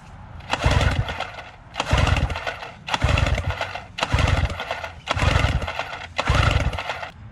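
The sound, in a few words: Yamaha outboard engine cranking during a compression check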